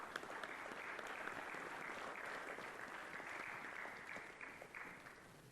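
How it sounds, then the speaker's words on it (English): An audience at a Catholic school event applauds steadily, a dense, even patter of many hands clapping at once that holds throughout and eases slightly toward the end. "Give him a round of applause."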